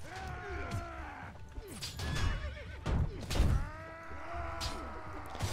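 Horses in the medieval combat game Mount & Blade: Warband neigh and whinny several times over battle noise, with thuds, clopping hooves and clashes, loud and close, while someone talks intermittently.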